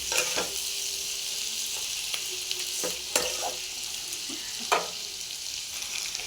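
Chicken seasoned with salt and turmeric sizzles steadily in a frying pan while a utensil stirs it, with several sharp scraping knocks against the pan over a continuous close frying hiss. No voices.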